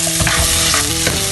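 Peppers get tossed in a little butter in a hot pan taken off the heat, making a loud, steady sizzle with quick scraping stirs close by.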